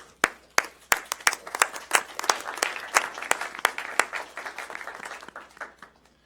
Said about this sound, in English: I want to thank you and give you a round of applause as well.